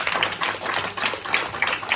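Clapping from a small evening audience for the founder of a radio station, a short burst of fairly even, close applause with no voices.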